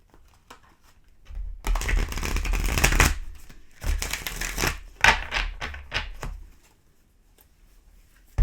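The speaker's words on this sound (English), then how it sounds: "one more shuffle here" Tarot cards are shuffled close by in a few bursts of riffling and flicking, with quiet gaps between, no talking.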